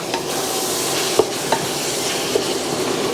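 A spoon stirs ngohiong filling seasoned with white and black pepper, making continuous close scraping and sizzling with a few sharp clinks against the pan.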